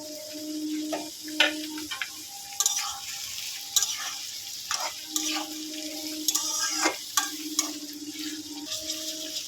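Tomatoes and green chillies frying in a pan give off a steady sizzle, broken by repeated clinks and scrapes of stirring and a faint ticking, with little or no talk over the cooking.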